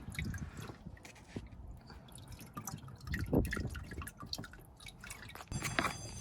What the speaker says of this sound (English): Let it all drain.